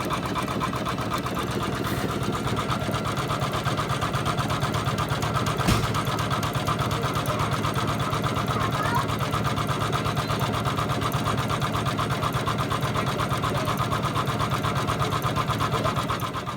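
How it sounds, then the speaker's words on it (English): An embroidery sewing machine runs steadily, satin stitching over purple fabric on a double wedding ring quilt, with a continuous close whirring hum and no pauses or voices. "the next step is to do the satin stitch over this purple"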